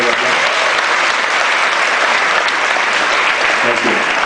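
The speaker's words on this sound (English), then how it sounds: "Can we give him a round of applause?" An audience at a business gathering claps steadily, a dense wash of applause holding at even loudness for several seconds.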